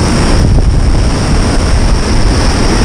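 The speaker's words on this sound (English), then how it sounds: "Getting smashed by the waves here." Sea waves crash and wash against rocks along a rugged coast, a steady loud roar of surf mixed with strong wind buffeting the microphone, no voices.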